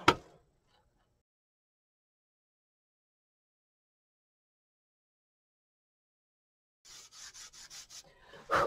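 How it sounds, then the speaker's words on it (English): Marking out drill holes on a pine guitar body makes a brief scratchy rub, then long silence, then a quick run of short, close rasping strokes on the wood. "Marking out the holes so I can drill them."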